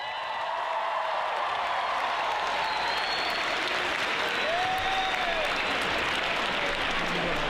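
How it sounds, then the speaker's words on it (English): A school audience at a DECA club event breaks into sustained, dense applause for Heiden, whose Star Wars wish is being granted, steady and loud across the whole stretch with a few faint whoops. "Please hold your applause until all other guests are announced"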